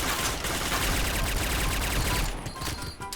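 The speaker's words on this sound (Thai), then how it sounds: "แต่ผมไม่ใส่เพราะว่าจะให้ฟังเสียงปืน" In PUBG, an unsuppressed Kriss submachine gun fires a dense, continuous burst of rapid rounds that stays loud and close throughout, easing slightly near the end.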